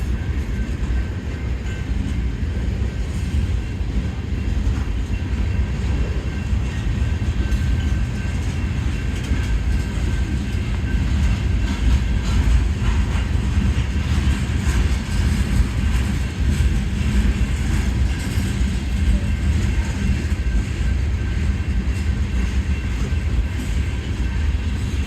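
Union Pacific 5532 manifest freight train rolling slowly outbound through a crossing at 1st Street in Tempe, a steady, continuous low rumble of wheels and cars held at an even level throughout, with no talk.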